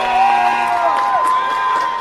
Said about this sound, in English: as the applause come in